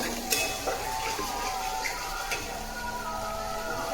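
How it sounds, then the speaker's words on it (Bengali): Garam masala spices fry in a pan with a steady, even sizzle, and a few light clinks of a utensil stirring against the metal sound over the top. "এটা সাই গরম মশলা একটু দিচ্ছি। ভালো করে মশলাটা কষাবো।"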